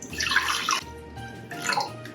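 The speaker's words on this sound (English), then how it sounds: "And then I'm going to add a little bit of water." Water poured from a container into a bowl holding floating candle makings, a splashing pour in two short bursts with a pause between, close and fairly loud.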